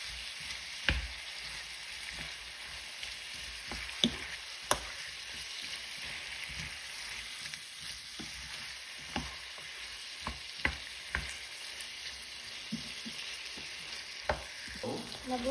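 Beef and mixed vegetables stir-fry in a pan, giving a constant soft sizzle broken by many sharp scrapes and clinks of the spatula against the pan.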